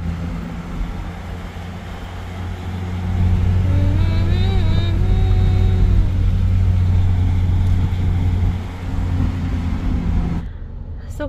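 Steady low engine drone from inside a vehicle stuck in heavy road traffic near Kumhari, outside Raipur, with a brief horn-like tonal whine partway through and the sound cutting off abruptly near the end.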